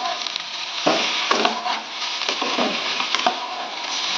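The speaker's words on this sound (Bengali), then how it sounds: "টমেটোটা দেওয়ার পর আমরা আবার এটাকে খুব ভালোভাবে আমরা" Tomato fries in a pan and is stirred over a dense, close sizzle, with repeated scraping strokes of the stirring spoon every half second or so, and no talk.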